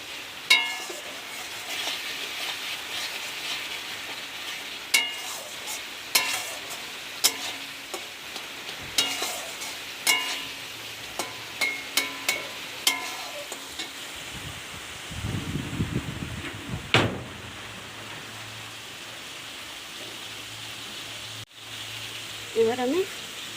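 Water poured into hot oil in a pan for a shankar fish curry, a soft crackling fry with scattered sharp pops, followed by a louder burst of hissing near the middle, then quieter sizzling; fairly faint and close, with no voices.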